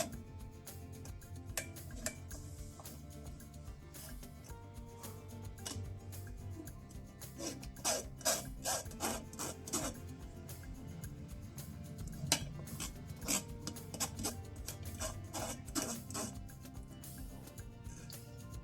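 Cooked raw mango pulp being pressed through a sieve for kairi panha, a quiet run of rapid ticking and scraping strokes against the mesh, close and steady, growing busier midway.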